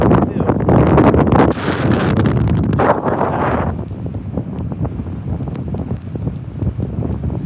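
Strong gusty wind at a stormy beach buffets the microphone in heavy rumbling blasts, loudest early and then easing into steadier rushing noise with crackling gusts throughout.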